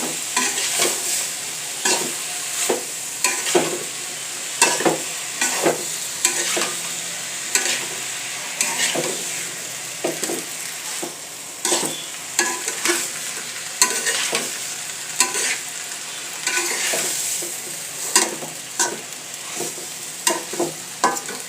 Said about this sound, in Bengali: মাথাটা কষাই নিলাম মশলা দিয়ে